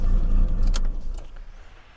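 A car fitted with NGK BKR6EIX iridium spark plugs idles with a low rumble, then the engine is switched off and the sound drops away, leaving a brief mechanical click and fading quiet.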